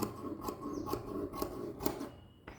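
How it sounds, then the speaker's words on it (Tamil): Scissors cut cloth for a churidar neck, making faint, close, rhythmic snips at an even pace, roughly five or six in a row. "இப்போ நம்ம வந்துட்டு கரெக்டாக இதை கட் பண்ணி எடுத்துடலாம்"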